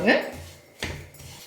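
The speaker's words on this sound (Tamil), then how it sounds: "ஒரு 4 மினிட்ஸ் வரைக்கும் இந்த நெய்யிலேயே இந்த ரவாவை நல்லா வறுத்தரலாம்" Semolina (rava) is roasted in ghee over a medium flame and stirred in a pan, with two close scraping strokes of a spoon against the metal over a soft background hiss and no speech.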